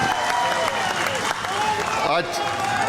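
Loud, steady applause and cheering from a large crowd at a Shiv Sena district political rally in Satara, continuous for the whole stretch with some voices mixed in.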